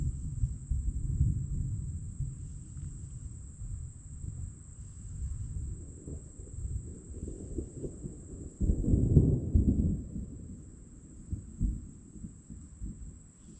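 Distant thunder from an August storm rolls as a long, low, muffled rumble that swells near the end, with a steady high insect-like whine over it and no talking.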